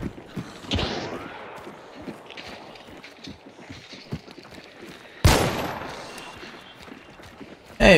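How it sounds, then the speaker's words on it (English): Scattered gunfire in Hunt: Showdown, with a sharp shot early, sparse distant cracks and mechanical clicks through a quiet stretch, then a loud close blast that rings and decays, and another at the end. "Hey buddy, why are you shooting at us like that?"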